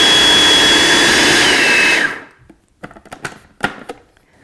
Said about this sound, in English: just blend this on high until it is smooth and creamy